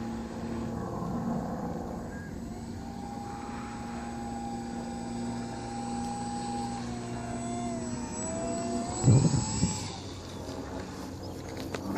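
A Dynam Tiger Moth model airplane landing, its steady electric motor whine droning and shifting pitch at a distance, ending with a brief bump of touchdown.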